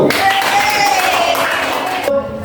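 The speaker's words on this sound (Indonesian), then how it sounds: "kita kasih tepuk tangan buat yang salah satu" Students in a classroom clapping for a classmate, a brief burst of applause blended with voices, cutting off abruptly near the end.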